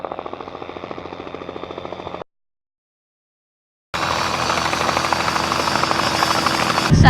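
A helicopter comes in to land with loud, rapid rotor chopping and turbine whine, cut off by a brief silent gap before the thudding blades return even louder and closer.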